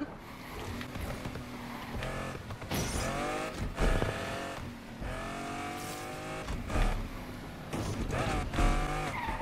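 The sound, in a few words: car driving in video game Need for Speed Unbound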